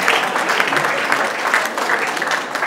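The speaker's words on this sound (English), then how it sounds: "Put your hands together for me" An audience claps warmly for an MC at a Cross River State political gathering, the applause close, busy and steady with slight surges, and no voice heard over it.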